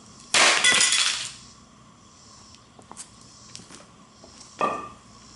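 A baseball bat swung against a Motorola Droid X phone lands one loud crashing impact with a breaking, glassy crunch, then faint rattles and a second smaller knock near the end.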